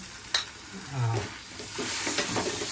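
Coconut masala paste for egg curry is sautéed in a pan: a brief soft sizzle with a spoon knock and stirring scrapes up close.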